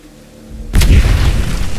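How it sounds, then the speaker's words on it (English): A single deep boom from C4 explosives in the video game Aliens: Dark Descent bursts out after a quiet lead-in, then rumbles and decays over the following second. "That explosion will sure attract some company."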